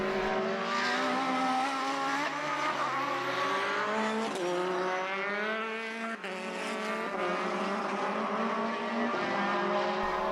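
BOSS single-seater race cars, including a Lola, race around the Mondello Park circuit in Ireland, their engines screaming loudly and continuously with rising and falling pitch as cars pass and shift gears.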